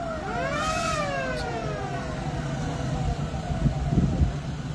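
A night-time convoy of vehicles on the road, steady engine and tyre rumble throughout with a wailing siren sweeping up and down near the start.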